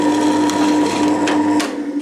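A drill fitted with a countersinking bit bores into wood while building a mini table, giving a steady close whirring hum that cuts off sharply near the end.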